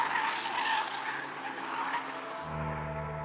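Renault Megane RS hatchbacks racing at the Simola hill climb near Knysna: a loud engine howl with tyre skidding, fading slightly before a lower steady engine drone takes over.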